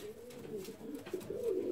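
Healthy fancy ornamental pigeons coo nearby in low, throaty rolling calls that repeat and overlap, steady and moderately loud, with no speech over them.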